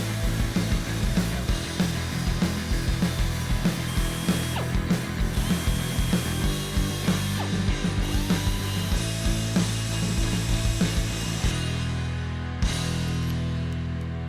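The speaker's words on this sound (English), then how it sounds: "Cut off the old rag joint coupling bit and made a flat in the shaft." An old steering rag joint coupling on a Barra-powered Bedford van being cut off with a power tool: a continuous grinding, rasping cut with rhythmic strokes, loud and close, with no talk.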